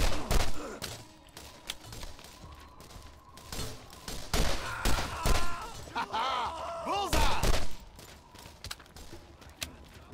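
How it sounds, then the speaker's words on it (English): Sniper rifle fire in Borderlands comes as loud, separate cracks spaced a second or two apart. Scattered game voices and impacts sound between the shots. "It's like having a mini sniper rifle."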